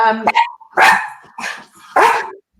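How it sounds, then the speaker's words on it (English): A dog barks in three or four sharp, close bursts with yelping tones, loud in an otherwise quiet indoor space. "That's your dog."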